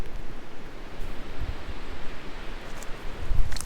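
Blustery wind rushes and rumbles against the microphone, with low thumping gusts pulsing irregularly over a constant airy hiss.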